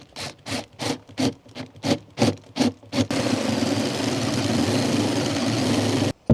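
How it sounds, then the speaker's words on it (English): A 20mm flat wood drill bit bores a hole while a DIY chicken coop door is built into a brick barn. About eight rhythmic bursts give way to a loud, steady whirring grind for three seconds that stops abruptly. "to drill my hole, I'm going to use a 20mm flatwood drill bit"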